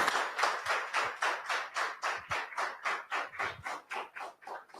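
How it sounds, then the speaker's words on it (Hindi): Audience at the close of a training session clapping in a steady rhythmic unison beat, about four claps per second, loud and close, with no talking. "तो जोरदार ताली होनी चाहिए।"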